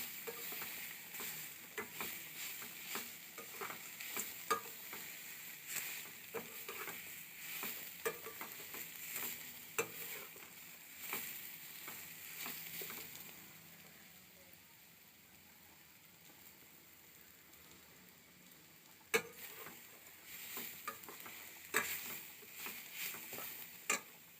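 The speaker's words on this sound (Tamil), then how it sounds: "இப்போ பீட்ரூட் போட்டுடலாம் அதையும் நல்லா வதக்கிக்கோங்க" Beetroot for dosa sautés in a pan at a faint, low sizzle, with repeated soft clicks and taps from stirring. The sound quiets in the middle before a sharp clatter and renewed stirring.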